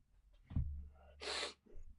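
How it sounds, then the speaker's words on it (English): A single person sneezes: a sharp gasping intake, then a short, forceful, breathy burst and a soft trailing breath, close and quiet. "I gotta sneeze."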